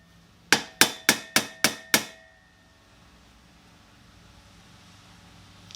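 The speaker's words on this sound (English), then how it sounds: "I might be able to hammer that down" Six sharp hammer blows land in a quick, even series, close and loud, each ringing briefly before dying away, while a car-workshop turbo install goes on, with quiet room noise after.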